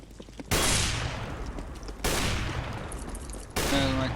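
Bursts of automatic gunfire from the video game CS:GO, three loud sustained volleys each lasting over a second, close and harsh with brief gaps between them.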